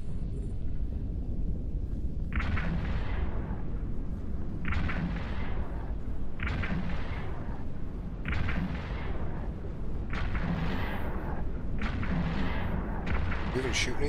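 Ship weapons fire in Eve Online while orbiting a target, a series of roughly evenly spaced booming volleys, about seven in all, over a constant low engine-like rumble.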